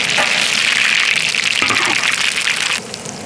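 Dried chilli, bay leaf, cinnamon and cardamom sizzle in hot oil with a loud, steady crackling hiss that drops off abruptly near the end.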